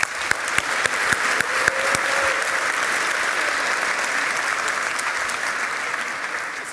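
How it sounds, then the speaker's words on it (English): Loud audience applause after a talk, starting with crisp individual claps that quickly merge into a full, steady round of clapping that eases slightly toward the end. "let's give them a big round of applause"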